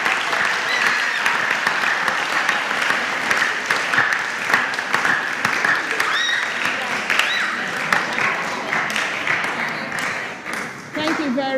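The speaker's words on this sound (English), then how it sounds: "please let's give a sounding round of applause to our contestants." Audience applause for school contestants at a junior high school competition between Good Shepherd R/C, Elmina Methodist B and St. Anthony of Padua, dense and sustained for about eleven seconds before thinning out at the end, with a few voices and cheers mixed in.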